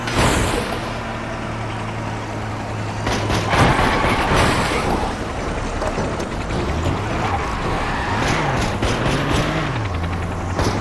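A car in a driving video game races along with a loud, continuous engine drone that rises and falls in pitch as it shifts and accelerates, alone without talk.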